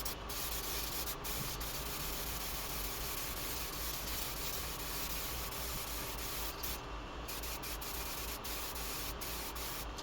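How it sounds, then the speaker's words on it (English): A spray gun lays a second coat of paint on a crashed NC Miata, a steady, close, continuous hiss with a few brief breaks where the trigger is released. "now we're gonna go ahead and throw our second coat on"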